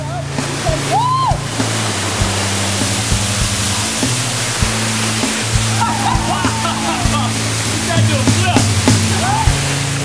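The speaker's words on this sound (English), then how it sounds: "it's time to bathe in this beautiful waterfall pool" Rushing water roars steadily from a waterfall pool in Costa Rica, a dense constant wash of noise with faint scattered voices and splashes.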